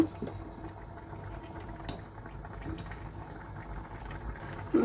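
Soybean dish with coriander leaves, garam masala powder and ghee simmering in a pot, a continuous close bubbling with light metallic clinks of the pot.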